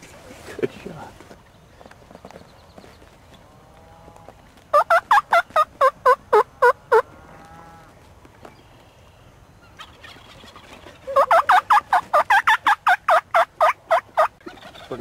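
Wild turkeys gobbling during an archery hunt, two loud rapid rattling gobble bursts several seconds apart, heard close outdoors over faint background noise.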